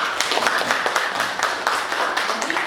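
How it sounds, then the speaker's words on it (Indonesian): An audience at a training session claps in a steady patter of individual claps, moderately close, with faint voices mixed in. "kita tepuk tangan"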